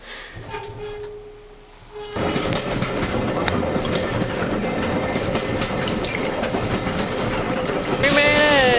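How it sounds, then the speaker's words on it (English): A train runs on the Ecclesbourne Valley Railway heritage line, a loud continuous rumble and clatter of wheels on track that starts abruptly after a quieter moment and keeps rolling steadily. "So here's the train we came on"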